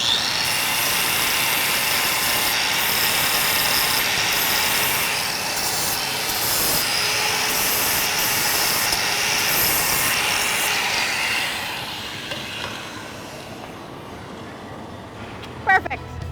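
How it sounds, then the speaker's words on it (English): An angle grinder fitted with a flat wheel smooths a weld, a loud continuous abrasive grinding that runs for about eleven seconds before fading to quieter workshop noise. "This is a grinder, complete with a flat wheel to make a nice smooth finish."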